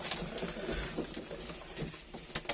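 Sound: pigeon released from the loft

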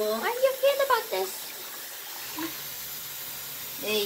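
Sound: water running for a bearded dragon's bath

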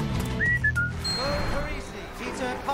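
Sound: Spider-Man whistling his own theme tune

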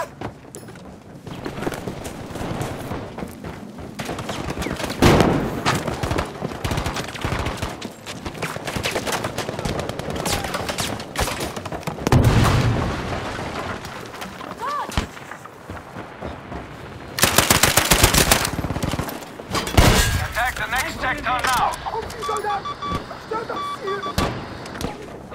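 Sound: machine gun fire in the video game Battlefield V

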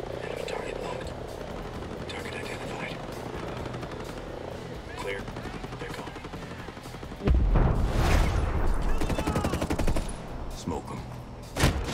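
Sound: gunfire in Ghost Recon Breakpoint video game

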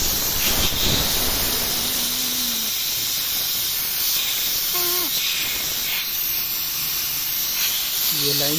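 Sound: hiss of pressure released from car AC system

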